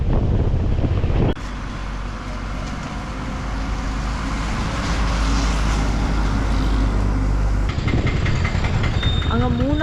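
Road traffic noise while driving away from Munnar, Kerala: a steady low rumble of engine and road with wind buffeting inside a car, loud and continuous, with voices talking over it.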